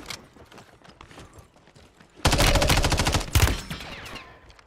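Rapid automatic gunfire in a video game, a loud sustained burst followed by a second close burst after a stretch of quieter clatter and scattered shots.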